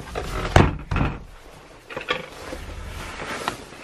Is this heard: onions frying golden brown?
no